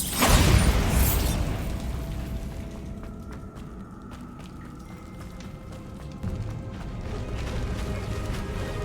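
A Bombarda blast spell goes off in Hogwarts Legacy, a loud booming burst at the start that fades into rumbling debris and scattered crackles and pops, with no talking.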